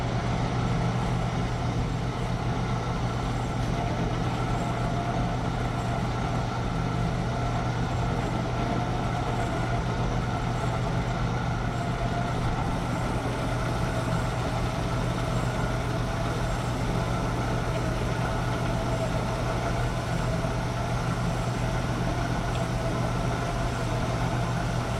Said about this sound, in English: So we're going to make a bunch of really nasty chips on the lathe here